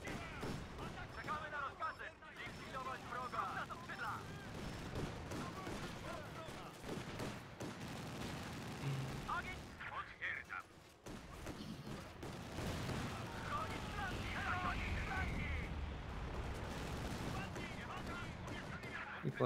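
Video game battle gunfire, with mortars in play: bursts of shots and booms run steadily for about twenty seconds beneath excited speech.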